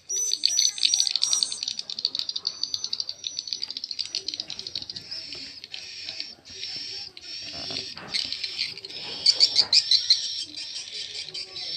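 Dense, high chirping and twittering from many swiftlets, continuous and fairly loud, with rapid repeated calls layered over each other throughout.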